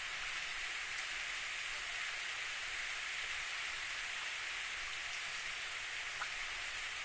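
Steady rain falling in the visual novel Steins;Gate, an even hiss of drops on surfaces continuing unbroken and fairly soft, with no voices.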